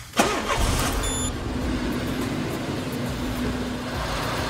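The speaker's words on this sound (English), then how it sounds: "we can start the car up" A car engine cranks and fires during an air-conditioning service after the receiver drier is replaced and the system recharged, a quick starter whir followed by a steady, close idle that settles and holds.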